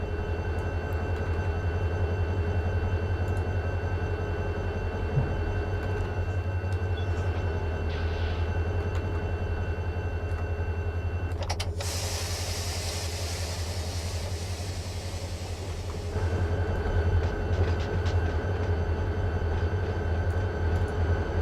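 Diesel locomotive in the Run 8 train simulator rumbling steadily with a deep engine drone, a brief hiss of air venting partway through, and the engine note swelling again near the end, with no talking.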